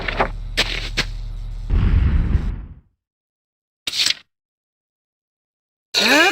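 Gunfire in the Valkyria Chronicles video game: rapid sharp shots ring out over a low rumble, then fade out. After that come two isolated short bursts separated by silence.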